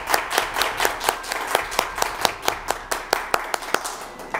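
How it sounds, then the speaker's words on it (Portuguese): Steady, evenly spaced handclaps, roughly two per second, from an audience applauding the deputies in Brasília; crisp and close, with no voices. "uma salva de palmas aos deputados em Brasília"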